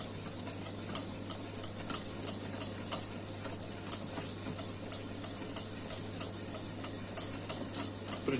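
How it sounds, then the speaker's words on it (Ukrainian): Butter and salt stirred in a pan while melting for salted caramel: a steady series of light ticking scrapes and clicks from the spoon against the pan, repeating about twice a second over a faint constant hum. "Це все діло розтаплюємо, розмішуємо сіль."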